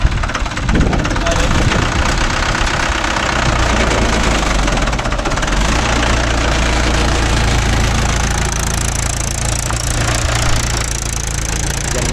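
A Mahindra 575 DI tractor engine idles loudly and steadily with a low, knocking rumble throughout.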